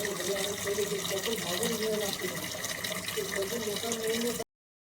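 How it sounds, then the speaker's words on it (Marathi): Water runs steadily from a coin-operated tap, a continuous moderate splashing flow that stops abruptly near the end. "बघा पाणी आलेलं आहे"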